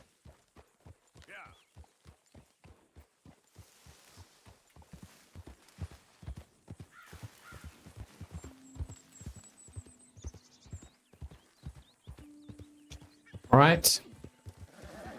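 Horse hooves in Red Dead Redemption 2 clop at a steady walking rhythm throughout, close and clear, with someone talking briefly and a sharp whinny-like burst near the end.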